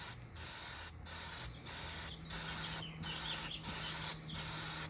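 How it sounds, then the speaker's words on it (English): Repeated short bursts of aerosol chain cleaner sprayed onto a 2020 Ducati Panigale V4 R motorcycle chain, about eight in quick succession with brief gaps, close by and fairly quiet. "As soon as you spray, it just eats up the grime and it falls straight down"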